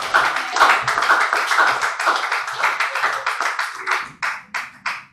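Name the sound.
congregation clapping and acclaiming God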